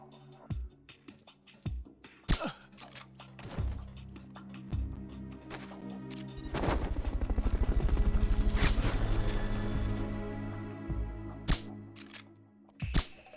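Helicopter from the Metal Gear Solid: Peace Walker video game, a swelling rotor drone that builds to a loud sustained roar in the middle and then fades, broken by sharp percussive game hits and clicks.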